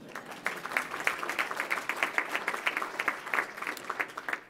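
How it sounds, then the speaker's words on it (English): Steady applause from a forum audience at a live-streamed event, many hands clapping in a dense, even patter that holds at a moderate level throughout. "Let's give a round of applause for everyone that I just mentioned."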